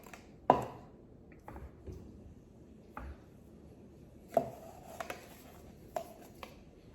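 A biscuit cutter presses through biscuit dough on a floured surface, making a few quiet, scattered taps and soft thuds that are separated by near silence.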